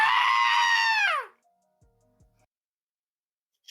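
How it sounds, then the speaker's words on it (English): A screaming goat sound effect played as a joke: one loud, strained, human-like bleat lasting about a second that bends downward and cuts off, followed by near silence with a few faint ticks. "Jokes were played like the screaming goats."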